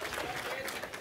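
An audience at a lecture on the resurrection of Jesus breaks into applause, a brief, dense patter of many hands clapping together, steady and fairly close, with no talk over it.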